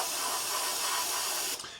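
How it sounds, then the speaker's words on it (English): An airbrush sprays paint at high air pressure onto a 1/32 scale Trumpeter Corsair model aircraft, a steady close hiss that cuts off abruptly near the end. "I'm spraying this quite a high air pressure because we want a little bit of texture"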